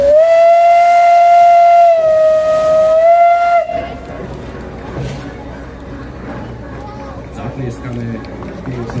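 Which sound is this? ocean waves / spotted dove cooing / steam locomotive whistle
steam locomotive whistle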